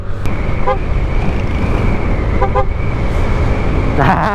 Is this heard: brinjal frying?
no